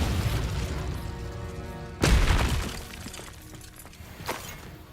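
Incendio fire spell cast in Hogwarts Legacy, a loud burst at about two seconds with a crackling, shattering edge that slowly fades, over steady game music and ambience, with a smaller flare near the end.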